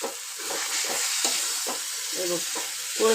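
Potato pieces frying in a prawn masala on low heat, with a steady soft sizzle and repeated stirring scrapes in a regular rhythm, close and moderately loud.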